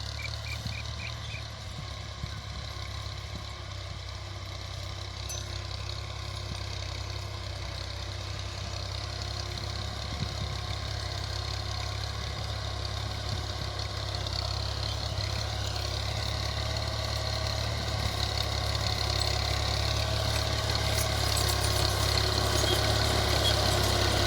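A 2014 Al-Ghazi tractor engine, fitted with an 11-tine cultivator on a farm field, runs at a steady idle with a constant low rumble and drone for the whole stretch, close and unbroken, with no voices.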